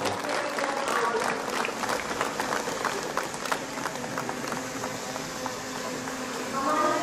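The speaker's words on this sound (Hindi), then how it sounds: "हम लोग तालियों के गड़गड़ाहट से ईश्वर को धन्यवाद देंगे।" Applause from the audience at a Catholic diocesan jubilee gathering welcoming bishops, a dense, steady patter of many hands clapping close by, with voices mixed in throughout.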